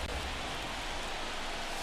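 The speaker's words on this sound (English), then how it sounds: "It feels like we might be headed towards a rain delay if the weather doesn't ease up, Chris." Steady rain falls on a ballpark during an MLB The Show 23 baseball game, a continuous even wash of dense droplet noise with no pauses or talk.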